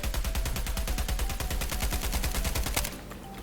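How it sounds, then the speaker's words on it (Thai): Rapid automatic gunfire from Call of Duty Mobile, a steady, loud stream of shots fired at a bot for about three seconds, then stopping abruptly. "เล็งไปที่บอท ซูมขึ้นมาหนึ่งหัวหน่อย กดยิงลากไปเลย"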